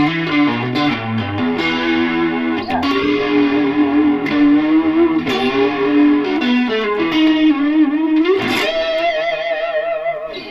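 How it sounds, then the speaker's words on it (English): A sustained electric guitar line with a shimmering, wavering chorus effect and some grit, notes sliding and ringing continuously without any talking. "I didn't expect to be able to pull a chorus sound that quickly."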